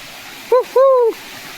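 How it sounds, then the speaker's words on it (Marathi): Steady rushing of a forest waterfall and flowing water after rain, a continuous wash of sound with two short tonal voice-like calls rising briefly above it. "वाहत चालला आहे पाणी असा त्याचा आवाज येत आहे"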